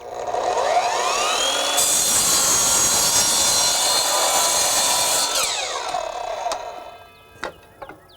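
Evolution multi-material miter saw spinning up with a rising whine, cutting steadily for a few seconds at high pitch, then winding down, followed by a few light clicks and knocks.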